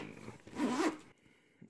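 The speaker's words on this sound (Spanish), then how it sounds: "Las cremalleras son de bastante calidad." A zipper being drawn along a Nintendo Switch travel case, one smooth close pull lasting under a second, then quiet and a brief final tug at the end.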